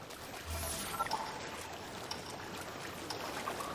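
A Zelda: Breath of the Wild waterfall rushes as a soft, steady, distant roar, continuous and unbroken with no voices.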